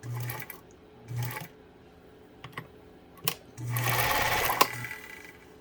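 A Pfaff 230 sewing machine runs a straight stitch in short bursts, with quick mechanical whirring and needle chatter, then a longer, louder run near the end, close and alone with no talking.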